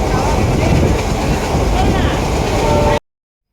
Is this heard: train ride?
yes